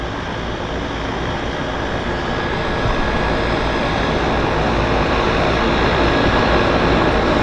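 An airplane departing Vancouver Harbour, a dense, loud engine roar that holds steady and swells slightly, close by with no voices.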